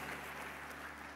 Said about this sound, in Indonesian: tepuk tangan meriah bagi Yesus Tuhan kita